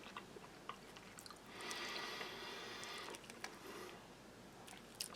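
Russian army ration bacon, soft and fatty, eaten straight from the tin, heard as quiet close-up chewing and squishing mouth sounds in a hushed room with no talking.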